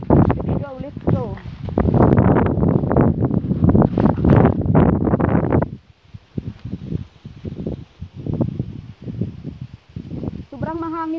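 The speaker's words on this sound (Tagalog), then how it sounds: "Sobrang mahangin ngayon" Strong wind roars over the microphone in a steady blast during an outdoor bike ride, then drops to gusty buffeting, with a voice speaking near the end.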